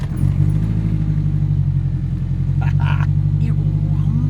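A 1983 Renault R5 Turbo 2 with its mid-mounted engine rumbles steadily and close, a deep, even idle throughout, with brief voice sounds partway through.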